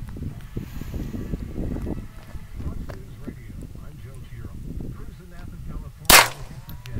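A single sharp shot from a Ruger Mark III .22 pistol with a 6 7/8 inch barrel, fired at glass bottles about 15 yards away outdoors, cracks loudly near the end after several seconds of wind and low murmured talk.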